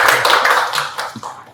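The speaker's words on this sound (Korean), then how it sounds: "박수로 부탁드립니다" Applause from an audience at a rural depopulation policy debate, close and loud hand claps forming a busy patter that thins out toward the end.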